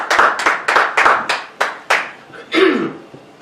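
A church congregation claps hands together in a series of sharp, fairly regular claps that loosen and fade toward the end, close and clear with little talk.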